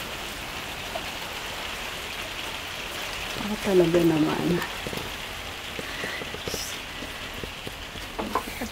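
Steady October rain in Germany patters and hisses throughout, with a person briefly speaking partway through over the downpour.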